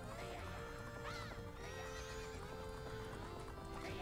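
In the video game Majora's Mask, a horse neighs several times over steady galloping hooves, a busy game soundtrack layered underneath at low volume.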